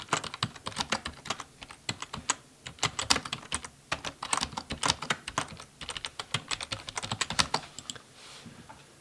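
Typing an address on a computer keyboard, rapid close key clicks in uneven bursts with brief pauses, alone and fairly quiet.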